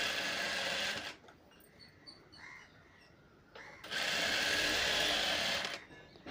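Sewing machine running in two bursts while stitching a straight seam on cloth, a steady dense whir lasting about a second, pausing, then running again for about two seconds, close and alone.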